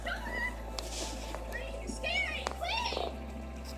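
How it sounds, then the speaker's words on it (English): Several cat meows, with faint children's voices and other background activity outdoors at night. "Here comes our ghost cat right there, Bob."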